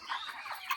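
Broiler chickens on a farm give a brief burst of soft, overlapping clucks, a faint, close-ish flock murmur lasting under a second.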